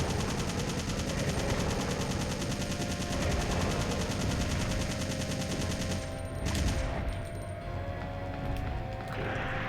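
Rapid, dense gunfire hammers away at an enemy in the original 1999 Resident Evil 3, loud repeated shots in a fast rhythm that thin out near the end.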